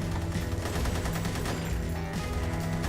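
Dense, continuous gunfire roars through the Magicka: Vietnam video game as a napalm strike is called in, a loud, unbroken wall of rapid shots and blasts with no talking.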